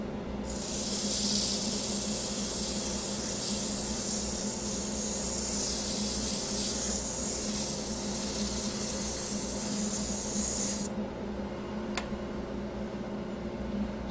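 A small pine ball, about 1 3/4 inches across, being sanded on a wood lathe: a loud, steady abrasive hiss runs for about ten seconds over a low motor hum, then cuts off, leaving the lathe humming alone.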